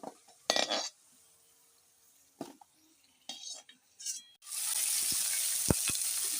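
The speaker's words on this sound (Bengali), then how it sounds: "এইবার বরবটিগুলো ভেজে নিচ্ছি।" Long beans fry in hot oil for a home-style Bengali festive meal. A few utensil clinks and stirring scrapes come first, then the beans drop in and a loud, steady sizzle rises and continues.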